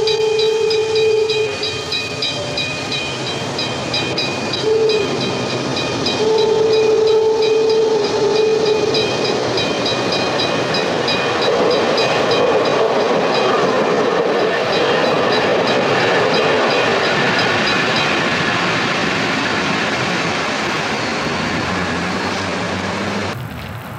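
An Erie Lackawanna eastbound train passing near Gillette on a light-snow morning, a loud continuous rumble and rolling clatter of wheels, with horn-like tones sounding early on, heard nearby without talk.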